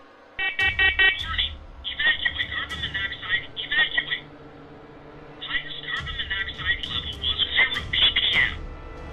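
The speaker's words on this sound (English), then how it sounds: "as soon as David starts talking about the smoke alarm again, it goes off on its own for a second time" A smoke alarm goes off in loud, rapid shrill beeps, stopping briefly and then sounding again in a second long burst, close by.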